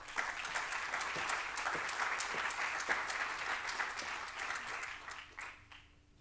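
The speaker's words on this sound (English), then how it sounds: "a big round of applause for Professor Raphael Mechoulam." A conference audience in Lisbon gives a sustained round of applause, dense and steady for several seconds before thinning out and fading away at the end.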